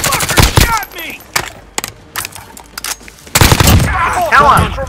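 Bursts of video-game gunfire crack out in a fast volley, go quiet with a few scattered single shots, then a heavy burst returns near the end, with excited players shouting over it.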